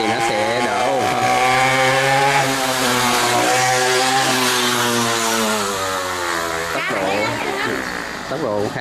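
Homemade lawn mower powered by a scooter motor runs loud and close, a steady buzzing engine drone with shifting pitch, with a voice talking over it throughout.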